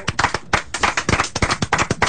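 A few people clap in a studio, with quick, close, uneven handclaps running steadily for about two seconds without talk.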